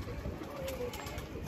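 Soft pigeon cooing close by on a rooftop, low murmuring calls over outdoor background noise.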